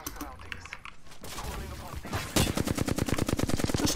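Gunfire in the battle royale game Apex Legends, a rapid automatic burst of evenly spaced shots firing loud and close after quieter scattered sounds.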